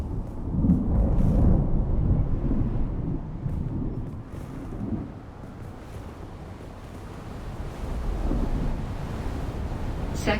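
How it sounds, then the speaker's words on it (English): Roaring sandstorm in a video game, a loud continuous rush of low wind with rumbling thunder-like swells, heaviest at the start, easing midway, then building again. "A large sandstorm is approaching."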